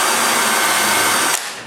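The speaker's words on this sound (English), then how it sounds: "I make sure the hinge is straight and drill some pilot holes" Power drill boring pilot holes for cabinet hinges in wood, a steady loud whirring drone that cuts off abruptly and winds down at the end.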